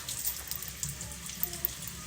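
Running water splashes softly from a tap while eyebrows with fresh permanent makeup are rinsed, a steady low hiss with a few small drips and taps close by.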